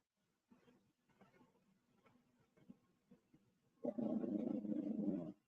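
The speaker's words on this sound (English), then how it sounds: "Minnie, what are you growling at?" A dog growls low and close, starting as a faint, broken rumble and then swelling into a loud, sustained snarl for the last second and a half, with no talking.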